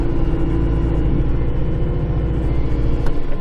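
Tractor engine running while moving snow, a loud, steady low rumble with a throbbing mid-range drone held at an even level, close by and with no talk.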